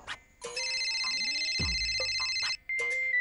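A mobile phone rings in a domestic scene, its bright electronic tone repeating steadily and loudly across the clip, briefly interrupted by a low thud and short gaps, with no talking.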